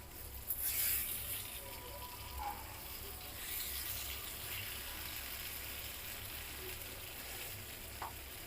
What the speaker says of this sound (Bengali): যাতে আলু আর বেগুনটা খুব সুন্দর করে ফ্রাই হয়ে যায়